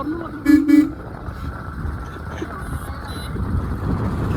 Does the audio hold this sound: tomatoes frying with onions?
no